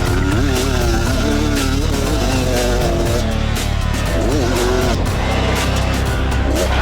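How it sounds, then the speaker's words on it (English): A Beta RR250 two-stroke enduro motorcycle rides a lap on slippery cross-training terrain, its loud, raspy engine constantly rising and falling in pitch with throttle changes, close and continuous for the whole stretch. "This lap was on his favourite 2-stroke, the Beta RR250."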